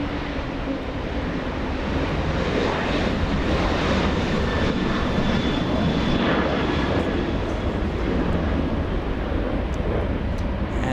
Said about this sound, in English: the 777 will enter taxiway Delta